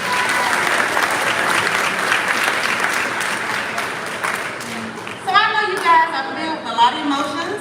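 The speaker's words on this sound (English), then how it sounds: "give them a round of applause at this time" Sustained applause from a graduation ceremony audience fills the hall, steady and dense, then thins out as a voice begins talking over the last few seconds.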